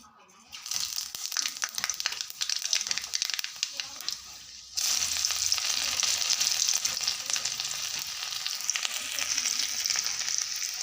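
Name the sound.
vegetable fry being stirred in pan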